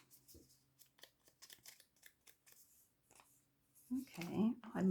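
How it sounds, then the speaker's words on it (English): Sharp surgical scissors snip old book pages in a quick series of short cuts, close and quiet, followed by a person starting to speak. "I was using like these crazy like surgical scissors, and yeah, these are nice and sharp."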